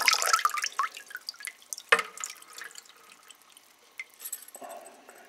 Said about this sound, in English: the remnants of the water in the pipe also trickles out as well